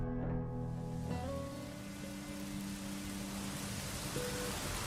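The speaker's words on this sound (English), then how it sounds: "We see the rain starts as they're walking through the forest trying to find a place to stay" Rain pours steadily in a forest, a dense, even hiss of drops on leaves and ground filling the whole stretch, with faint musical tones underneath at the start and no voices.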